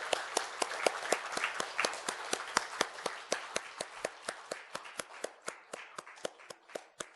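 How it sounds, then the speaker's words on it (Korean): Congregation clapping together in a church hall as a bouquet is handed to the new senior pastor at his installation service, a steady run of sharp individual claps that thins out toward the end. "우리 받으실 때 함께 박수로 받아가겠습니다"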